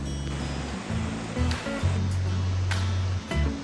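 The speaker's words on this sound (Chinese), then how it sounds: "在这边听一下河水声" River water rushing near the Lauterbrunnen waterfalls in Switzerland, a steady broadband roar close by, with a low engine-like hum underneath and a few brief knocks.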